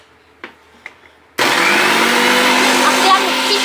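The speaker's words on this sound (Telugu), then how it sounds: "మన అక్క మిక్సీ పట్టేస్తుంది" A mixer grinder blending milk and mango starts abruptly after a few faint knocks, then runs as a loud, steady motor whine and churning roar to the end.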